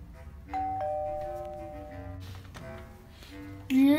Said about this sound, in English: Did I ring the doorbell?